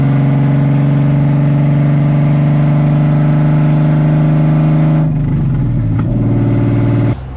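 A car engine runs loud and close in a steady, unbroken drone, its tone dropping and roughening toward the end before settling again.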